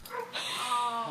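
Excited dog reuniting with its Marine owner, giving a quick high-pitched whimpering yip that rises into a short whine, close and brief.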